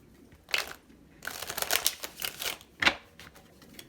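Tarot cards being shuffled by hand in a few quick riffling bursts, each a short crisp papery flutter close up, separated by brief quiet gaps.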